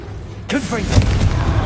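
A Confringo explosive spell cast in Hogwarts Legacy lands as a single sudden boom with a rumbling tail, loud and close.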